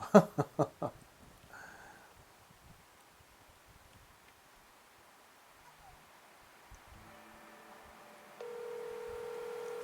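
A mobile phone dials out from a fishing spot, starting with a quick burst of four loud keypad tones, then quiet rustling outdoors before a steady ringback tone begins near the end.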